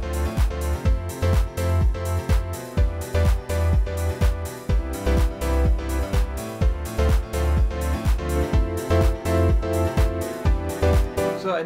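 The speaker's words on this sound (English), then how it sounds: "I'm using a preset, piano preset of course, called the Mix 2" A single layered piano part from the Mix 2 preset in Logic Pro X, used for piano house, plays bright repeated chords with a steady, punchy rhythm alongside a driving four-on-the-floor kick.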